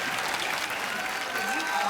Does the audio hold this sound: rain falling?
no